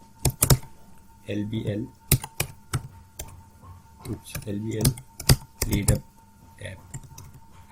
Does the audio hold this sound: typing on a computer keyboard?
yes